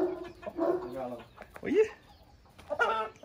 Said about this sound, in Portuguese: Caralho, uma galinha diferente.